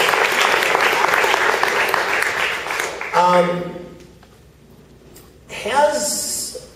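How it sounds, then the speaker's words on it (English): Audience applause for candidates at a West Seattle school board forum: a burst of steady clapping that fades after about three seconds, then someone speaks over the quieting room before more brief sound. "Can we have a round of applause for all of our candidates who took their time to be here tonight?"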